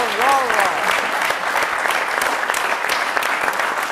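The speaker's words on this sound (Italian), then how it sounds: "Allora facciamo un applauso." A seated audience at a tribute event for Count Piero Arvedi breaks into steady applause, dense and close, with a brief voice cutting in at the start and murmuring underneath.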